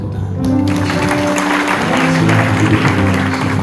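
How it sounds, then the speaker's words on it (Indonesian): A church congregation at a prayer service applauds amid sustained music, with clapping swelling under held keyboard chords and continuing throughout. "Kasih tepuk tangan."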